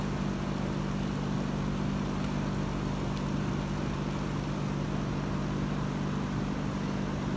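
An engine fitted with a bolt-on reed valve drones at full throttle, holding one steady loud tone that does not climb, with no break or pause.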